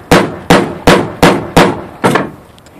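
Six sharp, loud metallic bangs from a rivet tool setting rivets into fabric on a sailboat, struck at a roughly even rhythm about half a second apart, close up with no talking.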